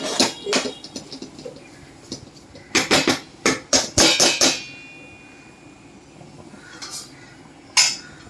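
A utensil scraping and knocking against a pan while stirring pithla, a spiced gram-flour dish, in irregular bursts of clinks and taps with quiet gaps between, close up and without talk.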